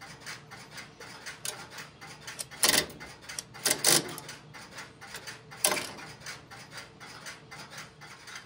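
A Strowger step-by-step telephone switch in a step office clicks and ratchets as its wipers step across the bank, giving sharp mechanical snaps in irregular bursts with quieter ticking between, close and clear.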